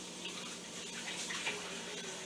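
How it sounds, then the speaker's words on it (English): Hands being washed under a running sink tap, a steady close stream of water with light splashing and no talk. "Let me wash my hands."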